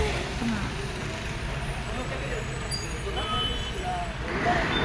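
A passing truck or bus on a village road rumbles steadily nearby, with a broad low engine and road roar that swells slightly toward the end, while people talk over it.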